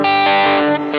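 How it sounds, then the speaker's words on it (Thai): A loud, sustained electric guitar chord with gritty crunch distortion from a Mooer GE100 multi-effects unit rings out, changing slightly as it is restruck near the end. "มีเป็นเสียงแตกปลายเสียงหางเสียงเสียงครันช์นะครับผม"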